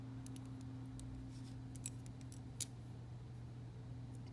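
Scissors snipping a piece from an adhesive designer nail sticker, a few quiet crisp clicks close by over a steady low hum.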